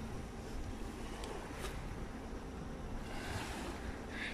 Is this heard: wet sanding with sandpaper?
no